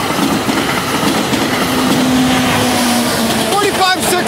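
A Norfolk Southern or CSX freight train rolls past close by, a loud continuous rumble with clattering wheels and a low droning tone.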